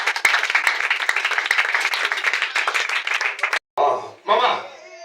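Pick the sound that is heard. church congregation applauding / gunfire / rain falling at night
church congregation applauding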